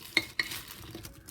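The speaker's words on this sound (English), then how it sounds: "give it a quick stir until the potatoes are" Yams coated with a tablespoon of cornstarch stirred in a slow cooker: a couple of quick utensil clinks and soft scraping, brief and quiet.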